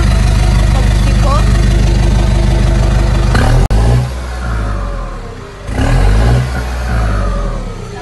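A Ford F250 four-cylinder turbo diesel with a straight exhaust idles loudly with a deep rumble, then revs up and drops back twice, the exhaust note swelling and falling close by.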